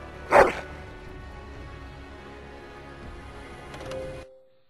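A Mabari war dog in Dragon Age: Origins lets out one short, sharp bark near the start. Quiet game ambience follows, with a faint tonal sound near the end.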